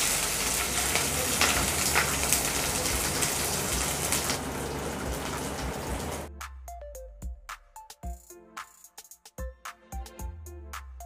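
Chopped onions and bell peppers fry in hot oil in a home kitchen, giving a dense, steady sizzle that hisses loudly at first. It then quiets to scattered crackles and pops, with no voices.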